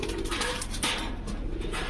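Pigeons in a loft cooing softly and continuously at close range, with a low, throaty rolling murmur and light rustling behind it.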